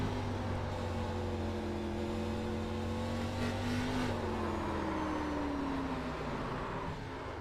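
A race car engine in a Scrambler Series race on the Nashville oval holds a loud, steady roar, its pitch rising and then sliding as the car accelerates.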